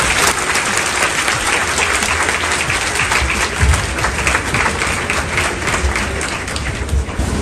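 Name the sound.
loud applause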